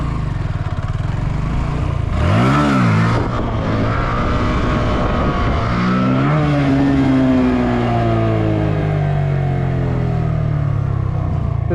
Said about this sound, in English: that is a big plane